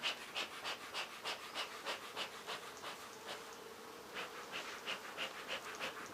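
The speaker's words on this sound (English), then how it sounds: "They are fanning in this direction inside the hive." Honey bees fanning inside an open hive make a faint buzzing drone that swells and fades in a steady rhythmic pulse, roughly three beats per second, with no voices.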